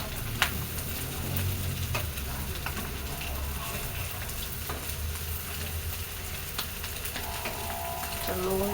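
Sesame seeds and sugar frying in a pan over low heat, a steady close sizzle with faint stirring scrapes throughout, no talking.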